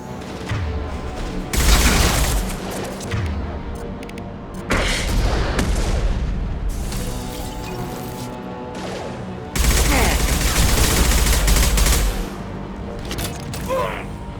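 Weapons blazing in the Mass Effect video game: loud, sustained bursts of rapid gunfire in three long volleys with booming impacts and mechanical clatter between them.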